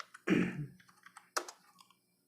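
Typing on a computer keyboard in a quiet room: a few scattered clicks, one heavier thump at the start and a sharp keystroke midway, then soft taps trailing off.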